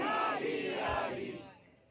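A crowd at a religious gathering chants slogans in unison, a loud collective shout that swells briefly and then fades away.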